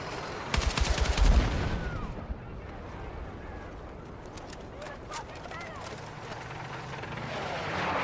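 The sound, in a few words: gunfire in the video game Battlefield 6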